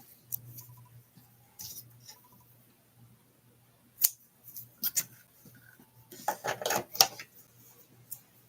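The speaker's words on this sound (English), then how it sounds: "And let me get scissors here." Scissors snip through green and white ribbon during a paper craft session, with a few soft separate cuts and rustling, then a busier burst of crisp snipping and handling noises close to the microphone in an otherwise quiet room.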